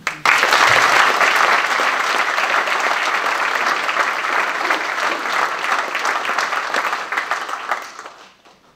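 An audience in a community amphitheatre in Edmundston applauds a campaign team, a full, warm burst of clapping that starts strong, holds for several seconds and then gradually tapers off to silence.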